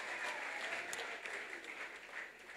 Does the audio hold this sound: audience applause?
yes